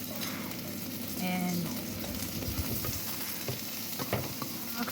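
Onions go into a pan of sautéing garlic, bringing a steady close sizzle, scraping stirs and scattered clatter, with a brief voice heard over it.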